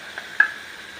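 Onions sizzle as they are tempered in hot oil, a faint steady hiss with a brief sharp crackle near the middle, heard alone without talk.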